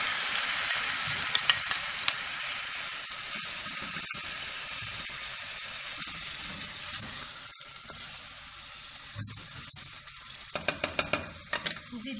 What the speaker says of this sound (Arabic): ندير البصله والجاج.